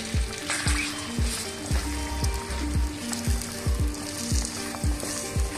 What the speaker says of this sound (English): Now we mix the grapes along with all the masalas.